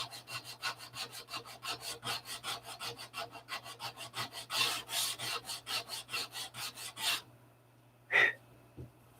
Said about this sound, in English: you want to listen for the noise, the sanding change